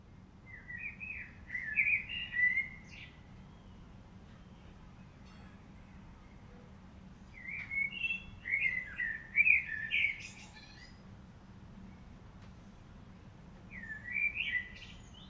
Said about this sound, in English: here's my bird